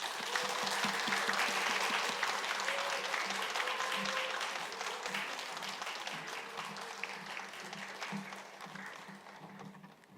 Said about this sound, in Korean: 우리 큰 박수로 우리 격려하는 마음으로 박수로 모시겠습니다